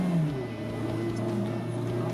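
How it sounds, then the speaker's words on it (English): Steady engine drone from a 2015 fourth-generation Mazda MX-5 Miata ND roadster with a 2.0-litre 163 hp engine, heard from inside while shifting down, a low continuous hum with a brief rise in pitch near the start and no talking. "Also the sound, I think, is quite nice, especially when shifting down."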